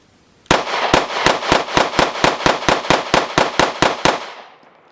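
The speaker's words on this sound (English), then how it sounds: "Man, those rounds go fast, but you have 15-round mag capacity with this Micro 9." A Smith & Wesson CSX E-Series Micro 9 9mm handgun fires a fast string of about fourteen loud, sharp shots in steady rhythm, each crack ringing briefly before the next, with no talking.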